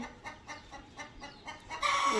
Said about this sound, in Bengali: নিচে দেখো মুরগি বাচ্চাগুলো কেমন ঘুরছে খেলছে খাচ্ছে